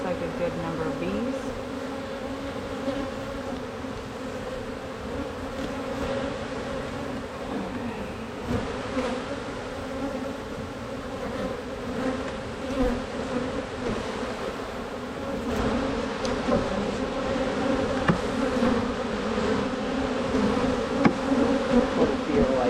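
Honey bees hum around an open hive during a weekly inspection, a thick steady buzz up close that continues throughout, with occasional handling clicks and a faint voice in the background.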